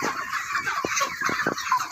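Chickens kept in a coop divided by knee-high bamboo fencing, crowding together at feeding time, give a steady close chorus of clucks and short squawks with a few sharper calls, no voices over them.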